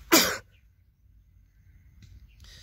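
A single sharp, close sneeze bursts out at the start, followed by near silence and faint room noise.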